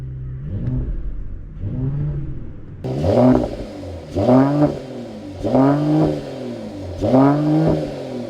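Parked and revving against a limiter capped at 3,000 rpm, a Mercedes-AMG GT43 engine is blipped in six or so quick rising-and-falling bursts, each climbing and dropping back, loud and close with no voices.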